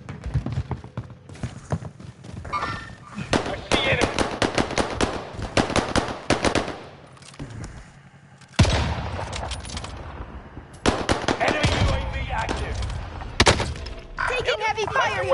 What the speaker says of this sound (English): heavy fire here